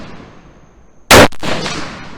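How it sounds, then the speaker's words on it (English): A single sharp, very loud gunshot from an ATI AR-15 pistol with a 7.5-inch barrel cracks out close by, followed by a short echoing tail over quiet outdoor background. "First time shooting this thing."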